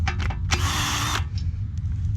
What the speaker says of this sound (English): this time I'm going to use my drill.